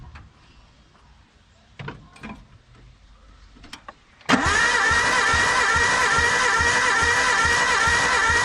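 Suzuki Sierra SJ50 engine cranking at wide open throttle during a compression test, a steady loud rhythmic starter churn that begins abruptly after a few quiet clicks and handling noises.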